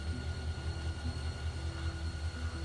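A train in The Walking Dead video game rolls along with a steady low rumble and faint tonal hum, a continuous quiet ride with no talk.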